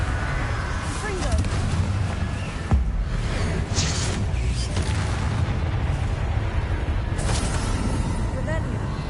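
Fiery Confringo blast spells burst in Hogwarts Legacy, a few booming whooshes rising over a constant loud bed of game rumble and music.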